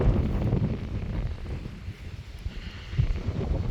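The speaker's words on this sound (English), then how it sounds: "Very windy today." Gusty wind on a hilltop at Rocky Springs campground on the Natchez Trace Parkway buffets the microphone with a low rumbling roar that swells and eases throughout, loud and continuous outdoors.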